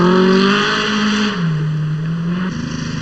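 Talbot rally car driven by Russell Brooks on the 1980 RAC Rally, its engine revving loud and close, the pitch dipping and climbing again over a few seconds of continuous mechanical roar.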